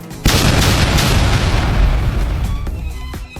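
Two hand grenades exploding in an animated cartoon: a sudden loud, deep blast that rolls on as a sustained rumbling roar for a few seconds before slowly fading.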